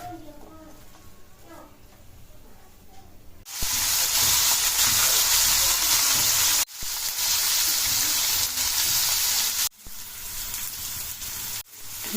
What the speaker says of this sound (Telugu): దొండకాయల్ని ఇలా కలుపుకుంటూ ఫ్రై చేసుకోవాలి.